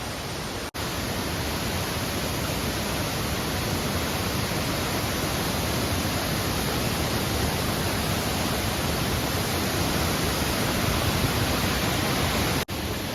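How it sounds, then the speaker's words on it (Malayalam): A continuous, dense rush of falling water at Aruvikkuzhi waterfall roars evenly from start to finish, loud and close, with no other sounds standing out. "അത്രമേൽ ഭയങ്കരമായ അപകടമൊന്നുമില്ലാത്തൊരു വെള്ളച്ചാട്ടം"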